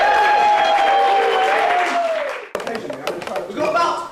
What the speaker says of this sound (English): A round of applause for Barbara.